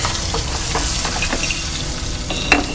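Crushed garlic hits hot oil already crackling with mustard seeds and golden urad dal for South Indian rasam, giving a steady close sizzle with a few small pops and a stirring scrape, no voices.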